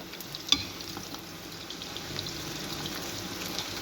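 Homemade potato chips fry in hot oil over lowered heat while being mixed: a continuous soft sizzle with faint crackles and one sharp clink of a utensil early on, steady and moderately quiet.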